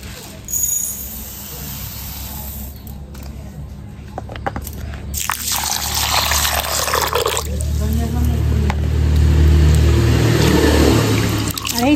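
Gobindobhog rice being rinsed in water by hand in a kitchen while making payesh, with close sloshing, swishing and grain rattling that builds steadily louder, under a low background hum.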